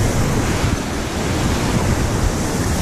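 A waterfall in a canyon near Dalat, Vietnam, sends up a steady, loud roar of rushing water, a dense unbroken wash of noise from start to finish with no voices.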